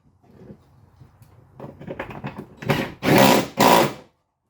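An impact power tool zaps the top bolts on an Audi A4 B8 rear shock in a few rising bursts, starting with faint rattles and building to two loud, close whirring blasts before stopping abruptly.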